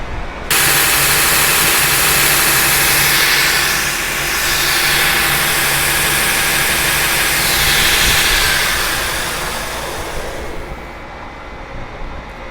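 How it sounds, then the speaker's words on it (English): A power sander works an axe handle with 120-grit paper, a loud, close, steady whirring hiss that swells and eases slightly before cutting off near the end. "let's get the handle sanded down"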